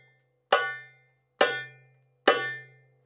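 Three bright, ringing darbuka tones are struck with the ring finger near the drum's edge. The evenly spaced strikes are close and clear, each sharp attack fading over about half a second against silence.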